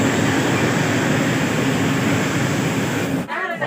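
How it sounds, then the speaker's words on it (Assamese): A train pulls into a station with a loud, steady rolling rumble and hiss that suddenly drops away near the end. "20 মিনিট লেট ট্ৰেইন আহিছে"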